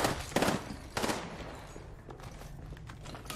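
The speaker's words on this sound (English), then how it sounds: "Opening fire on the enemy." Automatic gunfire in a fast-paced video game match, rapid bursts of shots up front that thin into scattered, quieter pops and clicks, with no talking.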